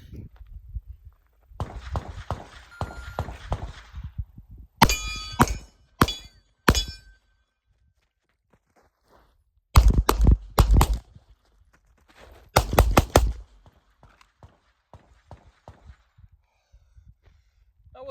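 Gunshots ring out in rapid bursts at a shooting drill, each string of sharp cracks followed by metallic hits on steel targets, with quieter movement and footsteps between strings.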